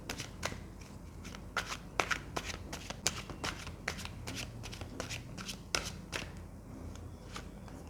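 A deck of tarot cards is shuffled by hand in a rapid, crisp riffle of close flicks and taps that continues steadily for several seconds, with no voice over it.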